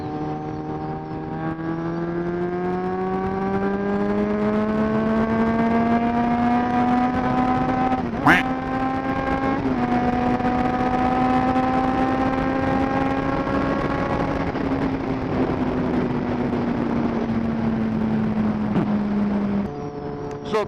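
A 600cc motorcycle accelerating hard through fourth or fifth gear on a highway: a close, loud engine whine that climbs steadily in pitch for about twenty seconds, with a brief jolt partway through.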